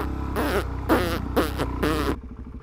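A voice imitates farts in a series of buzzing, wobbling bursts from a rider bouncing up and down on a bike, roughly four close, loud blasts with short gaps, ending abruptly.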